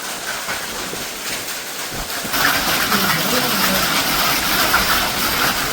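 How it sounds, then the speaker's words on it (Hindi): Large hailstones pour down in a storm, a loud, dense, steady rush of hard impacts mixed with heavy rain and wind noise, intensifying partway through. "आज हमारे यहाँ की बारी है शायद इतने बड़े बड़े ओले आने की।"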